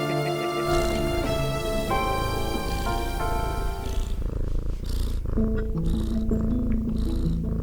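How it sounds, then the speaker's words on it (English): A steady, continuous cat purr runs throughout, close and fairly loud, layered with a busy musical background. "Here, kitty, kitty."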